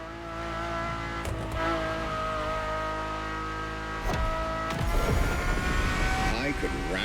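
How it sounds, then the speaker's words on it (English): A Ferrari supercar engine in The Crew Motorfest roars from the cabin, a loud steady drone with a sharp shift break around four seconds, then harder rising revs. "And the car's voice sounds even better from inside."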